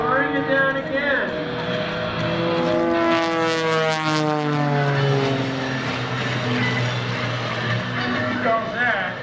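An aerobatic propeller airplane performs at the 2021 Greenwood Lake Airshow, its engine droning loudly and continuously with the propeller's pitch sweeping up and down through maneuvers, while a commentator talks over it.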